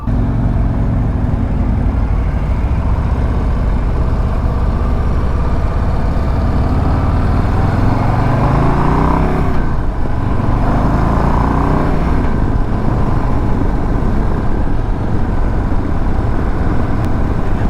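A 2024 Harley-Davidson Low Rider ST engine while riding, a loud, deep rumble close by that climbs through rising revs and shifts gears midway before settling back into a steady throb.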